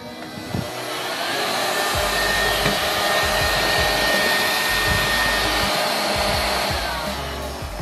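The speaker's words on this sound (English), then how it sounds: "vacuum and it comes with like a charging stand." A tiny portable vacuum cleaner runs steadily with a loud, even, high-pitched whir that holds for several seconds before easing off slightly at the end.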